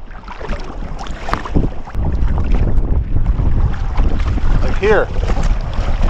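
Gusty wind buffets the microphone during a kayak crossing on Lake Superior, with steady loud roaring and rushing gusts, water sloshing against the boat, and someone speaking briefly.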